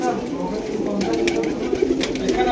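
Rampuri pigeons coo in short soft bursts, close by, partly under a voice speaking over them.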